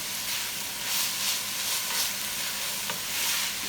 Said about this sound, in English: So I'm just going to saute it a little bit, not too much.